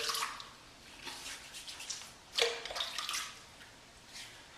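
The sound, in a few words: rinsing a safety razor with water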